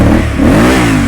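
A 2024 Yamaha Tuareg 660 motorcycle engine revs once in a short, loud, close burst, the pitch rising and falling back.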